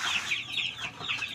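Chickens and chicks cluck in quick, busy bursts at feeding time, several birds calling close by with short overlapping clucks throughout.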